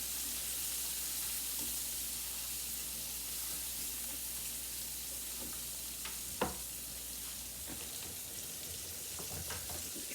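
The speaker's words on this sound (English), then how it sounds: "you want the flame to be kind of high because you want to get the ham very like caramelized" Spam ham fries in a pan over a high flame, giving a steady, even sizzle throughout with a few faint clicks and one brief knock partway through, and no talking.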